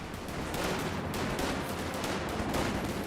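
Dense, continuous gunfire in the WWII strategy game Company of Heroes 2 during a battle involving grenadiers, Rangers and a Panzer IV, a steady, loud crackle of overlapping shots with no voices over it.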